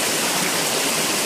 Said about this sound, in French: Là on voit une belle petite cascade de mousse.